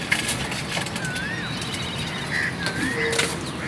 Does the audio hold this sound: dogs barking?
no